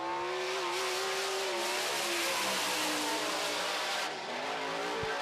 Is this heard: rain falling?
no